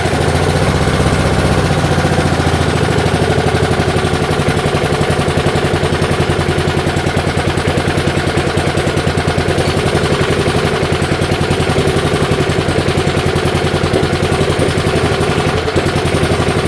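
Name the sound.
1978 Allis Chalmers 19 inch lawnmower engine running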